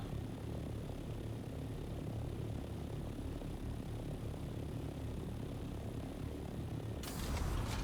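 A helicopter engine in the video game Dune gives a steady, dense droning roar that holds evenly throughout, with no talking.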